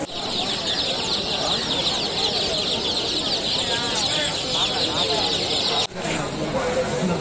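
Steady clucking and chatter from many chickens fills a bustling Broadway pet and poultry market, with people talking throughout and a short dip near the end.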